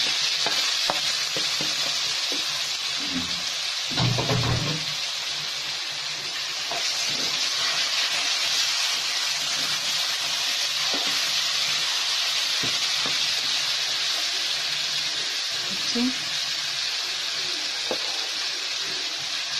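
Tomatoes frying in a pan for bhindi fry give a steady, close hiss and sizzle, with occasional stirring clinks and scrapes, and no talking throughout.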